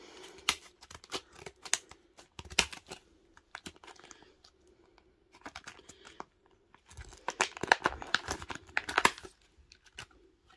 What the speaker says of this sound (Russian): Сейчас будем открывать термометр.